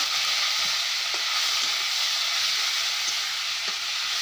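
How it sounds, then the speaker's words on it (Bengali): Fish frying in hot oil in a Bengali home kitchen, a steady dense sizzle throughout with a few soft clicks and taps, no talking. "তেলের মধ্যে একটু ভাজতে নিলাম।"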